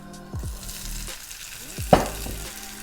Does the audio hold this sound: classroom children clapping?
no